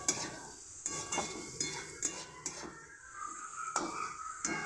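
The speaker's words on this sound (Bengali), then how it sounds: "লাল হালকা করে চিনি দিয়ে দিলাম, লাল লাল করে ভালো করে ভেজে নিচ্ছি।" Sugar frying in a pan until reddish, with a soft sizzle under repeated scraping and stirring strokes of a utensil against the pan, several sharp contacts at close range.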